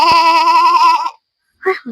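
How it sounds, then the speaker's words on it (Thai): Sheep at Singha Park in Chiang Rai give a loud, close, wavering bleat lasting about a second, followed after a pause by the start of another bleat. "นี่แกะ"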